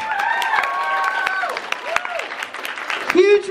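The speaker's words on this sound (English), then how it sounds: "Can we get a huge round of applause for these guys?" Comic con crowd claps and cheers for the costume contest winners in a steady burst of applause, with excited shouts and voices mixed in over the clapping.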